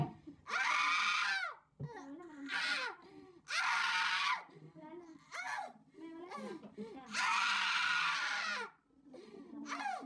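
A woman screams loudly in long repeated bursts while in labor during a hard, painful delivery, each cry separated by short pauses and mixed with gasps and sobbing sounds, close to the listener.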